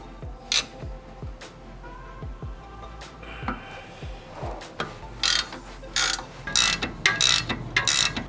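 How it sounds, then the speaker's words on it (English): A ratchet wrench loosens the two 18mm bolts on the rear trailing arm of a BMW M235i, its pawl clicking in quick close bursts between pauses, with scattered clanks of tools and metal. "Now start loosening the 2 18mm bolts on the rear trailing arm, but don't remove them just yet."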